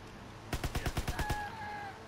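A rapid burst of about eight gunshots in the Call of Duty WW2 video game, sharp evenly spaced cracks followed by a faint ringing tone as the firing stops.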